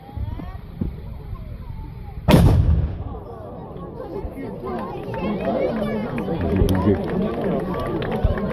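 A medieval ground-mounted cannon fires once at a castle fair, a sudden loud boom followed by a rumbling decay, with crowd chatter and voices around it.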